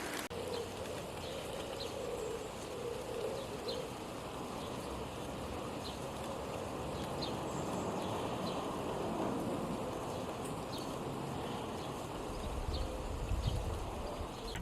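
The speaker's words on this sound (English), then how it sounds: "So why do we have rain?" Steady rain falling outside a house, a continuous broadband patter that holds at an even level throughout, with a slightly heavier rumble near the end and no voices.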